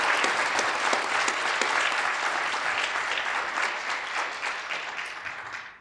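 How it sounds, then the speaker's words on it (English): Audience at a public heroes appreciation awards ceremony applauding, a dense, sustained burst of clapping from many hands that holds steady and then tapers at the end, with no talk over it. "I think that deserves an applause."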